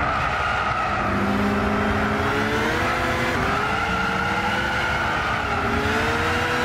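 Race car engine from Gran Turismo 6 on a rain-soaked, slippery track, droning steadily with shifting revs, rising and falling pitch and tyre skid, loud and continuous with no talk.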